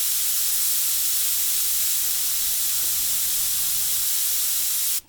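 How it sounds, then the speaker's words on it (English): A broad, steady hiss of an airbrush sprayed wide open to flush the tip, holding constant and loud for about five seconds before cutting off abruptly. "what I like to do is flush it by spraying it wide open off of what I'm working on"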